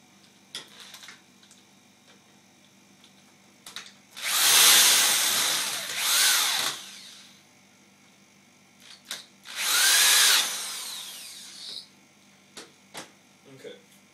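A power drill whirs in two long bursts of several seconds each, driving into wood close by, with a few faint clicks and taps in the quiet between.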